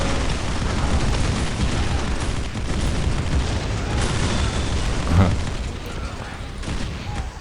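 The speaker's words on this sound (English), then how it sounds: "Mortars now firing inland." Mortar explosions in the Dawn of War Unification mod, Death Korps of Krieg battle, rumble as dense, continuous booming blasts throughout, with one sharper burst standing out near the middle.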